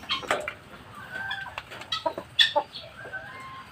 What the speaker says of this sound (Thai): นี่นี่ไก่ดำ